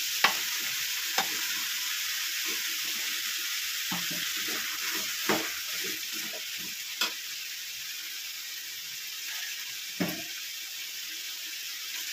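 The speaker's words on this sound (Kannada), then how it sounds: "ರುಬ್ಬಿರೋ ಮಸಾಲೆ ಹಾಕ್ತಾ ಇದ್ದೀನಿ" Ground masala paste is stirred into thick pumpkin gojju in a pan, giving a soft steady sizzle with scattered light scraping knocks of a spoon against the pan.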